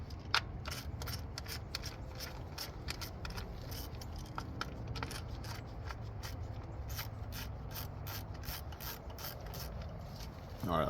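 Rapid ratcheting clicks from a 10 mm ratchet wrench set to reverse, loosening bolts over the spark plug area of a 2018 Nissan Kicks, a steady close mechanical clatter running throughout with no talking.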